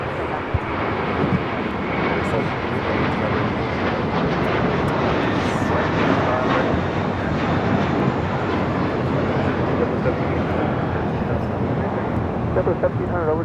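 A United airliner takes off from LAX, its engine roar loud and steady throughout, broadband and continuous, with faint radio chatter underneath.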